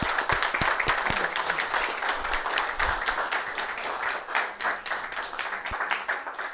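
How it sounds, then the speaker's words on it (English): Audience applause for an acting police chief coming up at a mayoral ceremony, a close, lively burst of many hands clapping with distinct individual claps standing out, steady throughout. "Let's give her a round of applause as she comes up."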